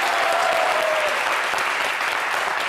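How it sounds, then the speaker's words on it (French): Studio audience on a French-language TV variety show applauding loudly and steadily, a dense wash of clapping that holds at full strength throughout, with a brief whistle near the start. "On les applaudit encore très fort"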